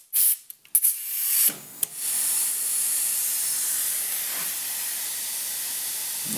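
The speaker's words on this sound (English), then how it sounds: "we're just going to hook our air line up." An air line connects to a junior dragster's Blockzilla engine for a leak-down test, giving a few sharp bursts and pops before compressed air settles into a steady, loud hiss into the cylinder.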